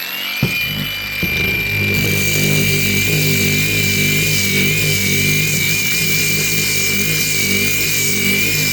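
A loud, steady angle grinder whine with a high-pitched tone runs continuously, close up and unbroken, at full speed while sanding with water.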